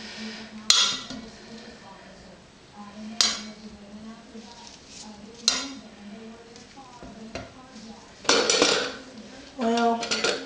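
Lye is stirred into soap oils for chocolate soap, giving a few sharp clinks of a utensil against the container followed by wet swirling and scraping, close and moderately loud, with brief talking in between.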